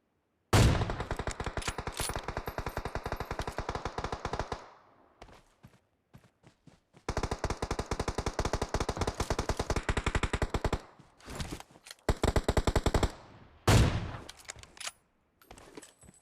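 Automatic-weapon bursts fire in a shooter video game, a long sustained stream of rapid shots, then a pause before another long burst and a few shorter volleys, loud and close with no talking.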